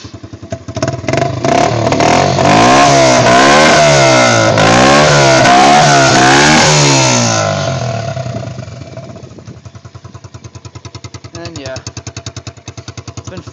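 A Raptor ATV engine with its silencer removed roars loudly nearby, rising and falling through rapid revs before dropping to a rough, lumpy idle.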